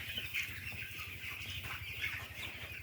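Broiler chickens in a rearing pen cluck and chirp continuously, a busy layered flock sound that stays close and steady throughout with no talking.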